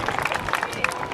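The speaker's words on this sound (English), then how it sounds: "Give him a big round of applause." Crowd at the 2005 NAS Patuxent River Air Expo applauding a US Army Golden Knights parachutist's landing, a steady wash of clapping from a distance, mixed with a public-address announcer's voice.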